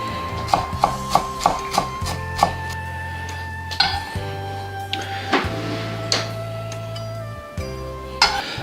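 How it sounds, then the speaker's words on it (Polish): A knife rhythmically chops a bunch of dill finely on a board for a red beet salad, sharp distinct taps in a quick series, then sparser cuts over a steady background hum. "musimy tutaj wkroić pęczek koperku, ale bez tych grubych części, bez tej łodygi. No i kroimy dość drobno."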